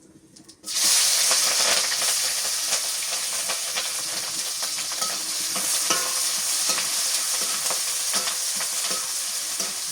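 Onion and green chilies dropped into hot oil with cumin seeds, bursting into a loud, steady sizzle right after a brief quiet start and crackling continuously up close, no talking.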